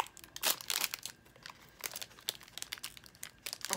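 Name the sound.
crinkling red plastic sleeve of a Funko Pop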